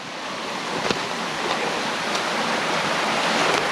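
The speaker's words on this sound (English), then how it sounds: "So we're at the top of the waterfall now," Steady broadband rushing of falling water heard from the top of a waterfall on a Cornish walk, a continuous wash of noise with no voices.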